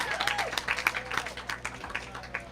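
Volunteers applaud at the close of a KaBOOM! park build day in Rocky Mount after moving mulch: scattered, uneven clapping from a modest outdoor group, with a brief voice near the start.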